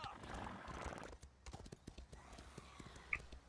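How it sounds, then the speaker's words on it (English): Hooves clip-clop in a quick galloping rhythm as a horse runs in Elder Scrolls Online, with a neigh and scattered game effects, while a voice talks over parts of it. "I'm just going to proceed to run away on my horse"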